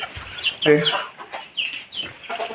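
Chickens clucking in short bursts, with a few brighter, sharper calls mixed in nearby; a faint voice sits underneath.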